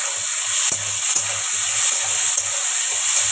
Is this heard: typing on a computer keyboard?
no